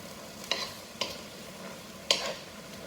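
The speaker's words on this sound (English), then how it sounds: "I'm gonna start stirring it." Beef carne con chile stirred in a pot, three separate scraping strokes over a soft, steady simmering sizzle, close and fairly quiet with no speech.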